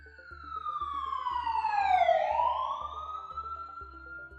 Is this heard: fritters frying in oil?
no